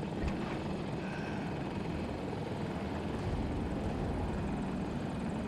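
A helicopter in the Battlefield video game, the Super Hokum attack helicopter on the Discarded map, drones with a steady low rotor and engine rumble, continuous and fairly quiet, with no talking over it.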